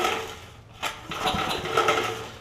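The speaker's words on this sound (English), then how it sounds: "I can hear, I think through either the intake or the exhaust, a little bit of a hissing" Several quick pull-start cranks of a 5hp Briggs engine on a Snapper tiller with a stuck valve, each a short mechanical burst, with a faint airy hiss from the intake or exhaust between pulls; the engine never catches.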